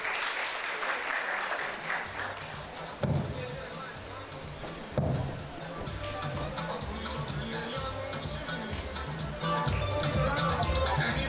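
Round of applause for an award recipient at a Nigerian polytechnic staff association workshop: a crowd claps steadily and fairly loudly, with a few sharp thumps and speaking voices mixed in over the clapping.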